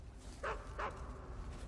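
Two short barks from a dog in the stealth video game Metal Gear Solid 3, about half a second apart, mid-loud over a steady low background hum with no one talking.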